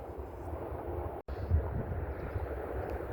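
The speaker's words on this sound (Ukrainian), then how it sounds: "Вітер, звісно, сьогодні задуває, і траса шумить воно там позаді мене" Steady blustery winter wind rumbling across the microphone, with a broad hum of highway traffic carrying from a distance underneath.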